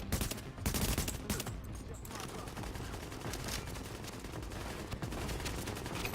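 Gunfire in Tom Clancy's The Division, a dense, steady stream of shots running through the whole stretch, loud and continuous, with a voice talking over it in places.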